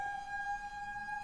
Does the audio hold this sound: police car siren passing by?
yes